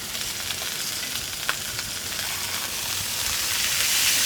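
Freshly flipped steaks sizzle in a hot pan as a bright, continuous hiss that swells slightly louder toward the end, with one or two small pops near the start and no talking.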